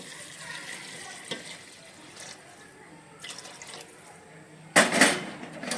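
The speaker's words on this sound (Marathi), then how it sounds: "मी हे गरम पाणी करून घेतलेलं आहे ते त्याच्यामध्ये मी टाकते" Hot water is poured into a pot of spicy village-style mutton rassa, a soft splashing that ends in a louder, brief gush near the close.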